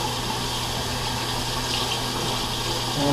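Tap water runs steadily into a sink while a face is rinsed clean after shaving prep, a continuous close splashing gush with no talking.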